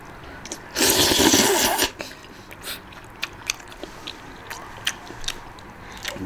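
Someone eats mixed noodles with chili peppers and pork belly, starting with a loud slurping burst, then a string of close, sporadic chewing and clicking mouth sounds.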